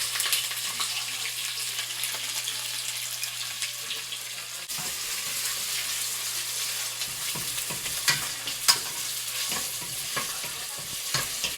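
Sliced onions fry in hot oil in a pot for mutton biryani, with a steady close sizzle and occasional stirring scrapes, no talking.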